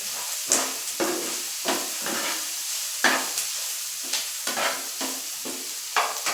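A spoon repeatedly scrapes and stirs a spiced potato filling with green chillies and chopped coriander in a pan, the rhythmic scraping strokes set over a faint sizzle, close and steady with no talk.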